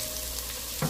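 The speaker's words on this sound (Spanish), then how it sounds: "vamos a sofreír una cebolla" Onion with carrot sticks sautés in oil in a pot, a steady close sizzle and crackle filling the whole brief moment, with a small knock near the end.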